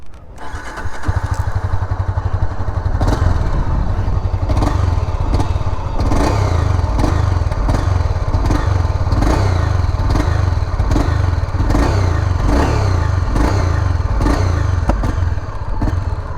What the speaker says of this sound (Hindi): अभी बाइक को थोड़ा सा ऑन करते हैं एंड सुन लेते हैं इसकी एग्जॉस्ट नोट कैसी है।